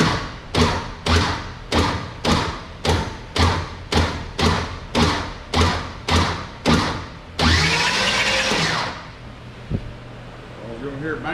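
A newly built engine with no oil in it is cranked over, giving about a dozen loud, evenly spaced heavy thumps, then a brief harsh whirring burst before it dies away.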